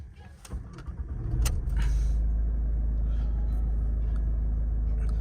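A 2009 Ford Mondeo 2.0 TDCi diesel engine cranks and catches, then settles into a steady low diesel idle rumble, with a few clicks beforehand.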